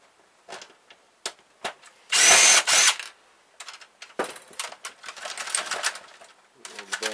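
A power drill removes screws from a scrapped printer with short whirring bursts, one longer loud run, then clicks and rattles of loose parts, close by, with brief talk.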